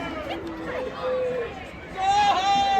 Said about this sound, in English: Angry crowd.